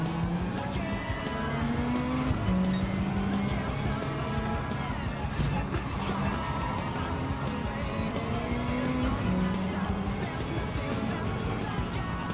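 Super Silhouette Skyline race car in Gran Turismo 7, a steady droning engine with shifting pitch as it accelerates and changes gear, continuous and fairly loud throughout.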